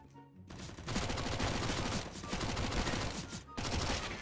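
A UMP submachine gun in CS:GO fires long, rapid automatic bursts, loud and close, with a short pause before the firing resumes.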